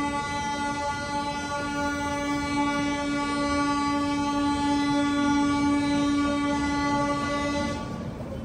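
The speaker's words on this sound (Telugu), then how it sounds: "జనశతాబ్ది బయలుదేరిపోయింది." The Jan Shatabdi Express, Howrah–Barbil service hauled by a WAP-7 electric locomotive, departs Tatanagar Junction with a sustained loud horn blaring over the rumble of rolling wagons, continuous for several seconds before cutting off near the end.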